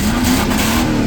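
A Dodge muscle car revs hard while leaving a car meet, giving a loud, close, sustained engine roar for a brief moment with no voices over it.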